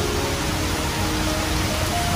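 Heavy rain falls steadily beside a covered north-facing terrace with a roof and thick wall, a dense, even hiss of downpour close by without pauses.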